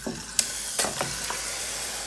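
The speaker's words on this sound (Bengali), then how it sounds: "দেখতে পাচ্ছেন চিকেনটাকে এই অয়েলের মধ্যে আমি হালকা একটু ভেজে নেব, ফ্রাই করে নেব" Chicken pieces sizzle and hiss in hot oil with onion as they are stirred in a pan, with quiet frying broken by a few sharp spatters and scraping stirs.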